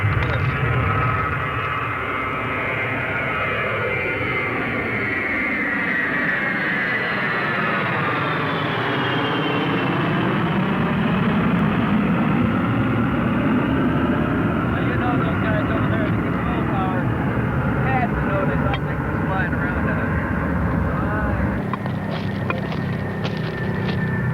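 Airplane taking off and passing right overhead, a loud sustained rumble with sweeping engine whine that rises and falls across the pass, with people talking underneath.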